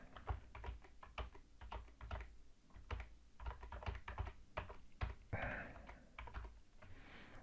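Data is typed into an Excel spreadsheet on a computer keyboard, quiet rapid key taps in uneven bursts, close by, with no talking.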